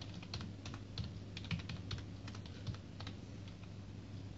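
A fastboot flash command is typed on a computer keyboard, producing a run of soft, quick key clicks at an uneven rhythm over a low steady hum, quiet and close with no talk.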